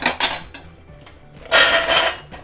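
Indian gooseberries (amla) dropped into a metal steamer pot over boiling water, giving a few clattering knocks at the start and a louder burst of metallic rattling and clinks near the end, close and without talk.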